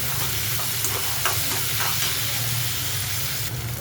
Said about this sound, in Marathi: आता इथे चिरलेले टमॅटो टाकूया